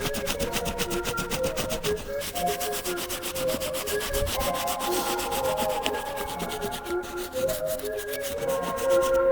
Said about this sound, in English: Now we're going to move on to the medium bristle brush to take care of the deep stains all around the white leather.